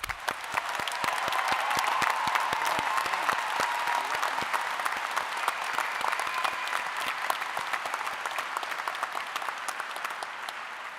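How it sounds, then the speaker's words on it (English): Sustained applause from a commencement audience for new physician officers at a medical college ceremony, a dense, steady wash of many hands clapping that continues for the whole stretch with no talk over it. "join me in a sincere thank you and applause for our new physician officers"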